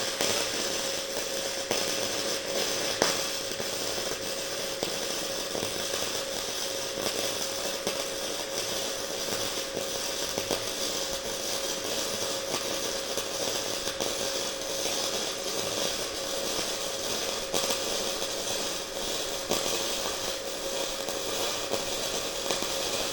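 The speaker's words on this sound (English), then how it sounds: "I'm going to weld this side now" Flux core welding with a Titanium Flux 125 welder, a steady, dense crackling hiss with a constant buzz that runs unbroken and evenly loud throughout.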